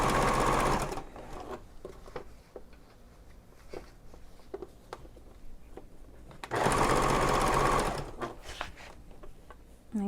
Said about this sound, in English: top stitching towards the pocket